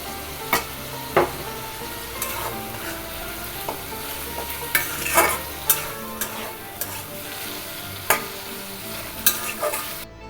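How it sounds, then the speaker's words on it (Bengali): Chicken pieces frying in oil with ginger-garlic paste and green chilli paste: a continuous close sizzle broken by irregular scraping and knocking stirs against the pan, with no speech. "তারপরে মুরগির মাংসগুলো দিয়ে দিব কিছুক্ষণ ভেজে নেওয়ার পরে এখানে কাঁচামরিচ বাটা আদা ও রসুন বাটা দিয়ে দিব"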